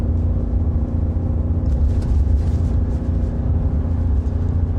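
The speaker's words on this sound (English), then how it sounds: "As you might be able to hear, I am in a truck." Cabin of a 2025 Ram 2500 Tradesman pickup towing a trailer, a steady low engine drone and road rumble that stays constant and fairly loud throughout, with no voices.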